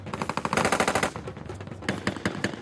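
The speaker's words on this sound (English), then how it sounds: "They also qualify with the primary military police weapons, the 9mm pistol, the squad automatic rifle," Automatic weapons firing during military police weapons qualification with a squad automatic rifle, rapid loud bursts of shots in quick succession, a short pause, then further bursts, heard alone.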